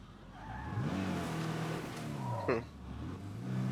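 A vehicle is driven in the video game State of Decay 2, its engine droning continuously and rising in pitch as it accelerates, with a brief skid or tire squeal midway, loud and steady.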